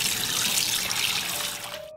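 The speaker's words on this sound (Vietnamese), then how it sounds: "Tiếp đến mình sẽ cho nước vào" Tap water pours into a bowl for soaking salmon fish heads, a close, steady rushing splash that thins and stops just before the end, with no voices.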